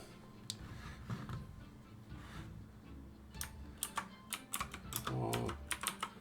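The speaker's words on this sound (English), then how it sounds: "let's do a bit of typing." Quiet computer keyboard typing for a Final Fantasy 14 chat, scattered keystrokes at first, then a quicker burst of clicks, with a low voice murmuring underneath.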